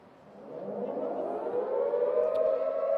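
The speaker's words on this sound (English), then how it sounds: "So that's the siren to start the next game." Siren at a schoolgirls' sports match between St Margaret Marys College and Emmaus College Jimboomba, a single steady wail rising in pitch and swelling in loudness over three seconds, heard alone from some distance.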